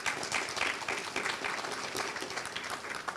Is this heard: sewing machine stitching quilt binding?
no